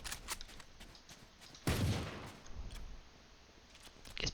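Gunfire in the tactical shooter Valorant, one loud burst of shots mid-clip among lighter clicks and ticks of gameplay, heard alone without talk.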